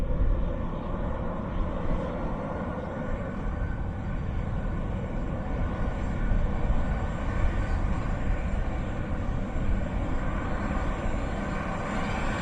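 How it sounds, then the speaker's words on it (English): Ryanair Boeing 737-800 airliner at Dublin Airport, a steady broadband engine roar that holds at an even, moderate level throughout with no talking. "Seven 737-800 of Ryanair."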